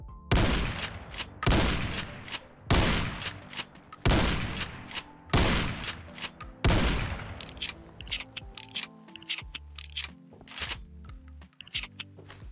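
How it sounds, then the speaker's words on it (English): A pump-action shotgun from a Fallout 4 mod in a video game fires about six loud, evenly spaced blasts, each followed by a pump rack. Then comes a longer sequence of metallic clicks and clacks as shells are loaded one by one. "we'll go ahead and do a mag dump, a mag tube dump, and show off the full reload for this thing."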